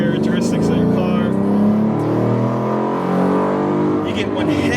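A deep, throaty exhaust from a 2016 Ford Mustang 3.7 V6 with BBK shorty headers drones steadily and loudly, the engine note rising and falling as the car drives, with no talking.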